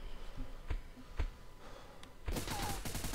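MP5 submachine gun fire in a first-person shooter game: a few faint isolated shots, then a dense rapid burst near the end, fairly quiet overall with no talk.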